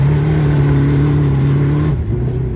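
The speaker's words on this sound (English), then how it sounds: "It's a little steep right here at the bottom, so we go slow, throttle on." A car fitted with a dogbox transmission pulls up a steep hill under throttle, its engine a loud, close, sustained drone that holds steady and then dips in pitch as it shifts near the end.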